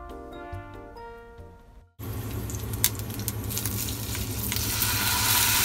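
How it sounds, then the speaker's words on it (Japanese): A steak sizzles hard in a hot frying pan, a loud continuous hiss and crackle that breaks in suddenly after a quieter musical passage and keeps building, close and steady. "ステーキ焼くときにいい音、一番好きですね。"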